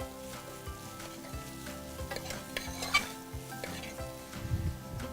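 Pre-cooked basmati rice in a pan over a low flame, quiet stirring and scraping with a soft, faint sizzle and a few light clinks of the utensil against the pan.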